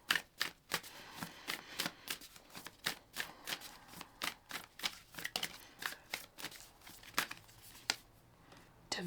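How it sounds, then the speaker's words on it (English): A deck of oracle cards being shuffled by hand, giving a quick run of crisp riffling flutters and soft slaps in a steady, repeating rhythm, close and fairly quiet. "Let's pull an oracle card to clarify this."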